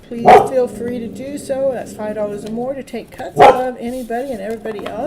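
A pet dog barks and yips in two short bursts, near the start and again midway, under a person's continuous talking in a live tarot stream.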